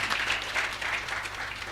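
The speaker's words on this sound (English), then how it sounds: "that's a round of applause" Brief applause from an audience at a talk on rural entrepreneurship and poverty alleviation, a steady, moderate patter of many hands with a faint low hum beneath.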